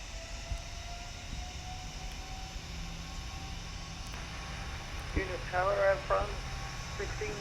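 Steady roar of PMDG 747-8F jet engines spooling to takeoff thrust in a flight simulator, a continuous broad rumble with faint radio chatter and talk over it.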